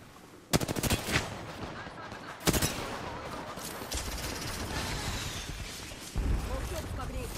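Video game gunfire comes as two sharp, loud bursts of rapid automatic shots followed by continued firing and rumble, with voices talking over it.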